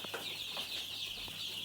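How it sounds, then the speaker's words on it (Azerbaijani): A flock of ten-day-old chicks cheeps continuously in a dense, high-pitched chorus, steady and close throughout, with faint background noise underneath. "20 aprel 2025-ci il 10 aprel çıxan cücələrdir."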